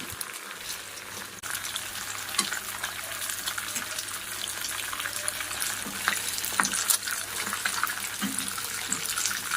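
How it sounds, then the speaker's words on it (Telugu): Fish fries in oil over a low flame, a steady close sizzle with scattered pops and crackles throughout, continuing evenly. "లో ఫ్లేమ్ మీద ఫ్రై చేస్తే చక్కగా బాగా వేగిద్ది."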